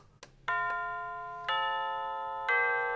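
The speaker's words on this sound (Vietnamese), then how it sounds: "đây là chuông đánh theo từng giờ" A Rhythm 4FN404 SR clock's hourly chime rings three clear, ringing tones about a second apart, each note sustaining and slowly fading, with no talking.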